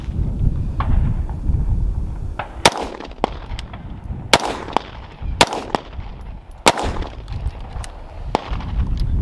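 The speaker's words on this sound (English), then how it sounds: "All of those shots went about 2-3 inches low" Gunshots fired at a paper target at close range, sharp loud cracks spaced irregularly, about eight shots over several seconds, each cutting through a steady low background rumble with no talk.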